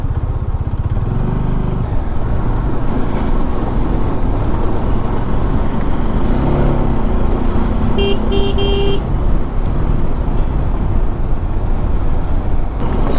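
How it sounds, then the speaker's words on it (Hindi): Road traffic passes on a hill road near Kunihar, heard from a Dominar 400 motorcycle, with steady engine drone, vehicles going by and brief honks around the middle, loud throughout. "अब तो ट्रैफिक भी आ गया एकदम से।"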